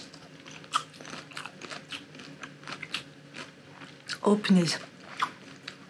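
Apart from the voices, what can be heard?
biting into a samosa with melted grated emmental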